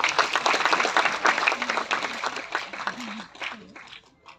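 Crowd applause at a Konkan award ceremony honouring a journalist, steady clapping for about three seconds that tapers into sparse claps, with voices murmuring underneath as it fades.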